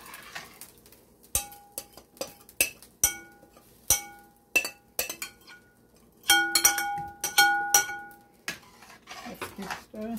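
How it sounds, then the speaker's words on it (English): A pot being stirred while making a Jamaican breakfast, with a spoon clinking and knocking against the sides in irregular metallic taps, close and bright, growing busier toward the end. "So now you have to stay close to it"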